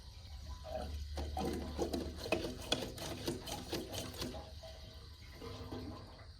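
Gasoline trickling slowly out of a Scepter Flo N' Go 14-gallon fuel caddy, a faint continuous liquid gurgle and splash with a low hum underneath, steady throughout.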